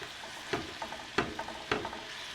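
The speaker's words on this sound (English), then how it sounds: "we add our finely chopped onions. That is actually on a high heat." Finely chopped onions fry in melted fat over high heat, a low steady sizzle broken by a few sharp scraping stirs spaced about half a second apart, close and fairly quiet.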